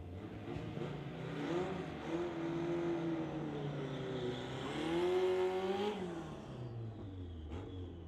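A 1980 Camaro drag racing at a street legal event, engine revving up through rising pitch with gear changes, loud and close, then fading as it pulls away.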